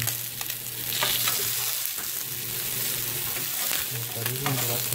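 Fish fries in a pan with only a little cooking oil, giving a continuous close, crackling sizzle with soft stirring scrapes, fairly loud throughout with no talking.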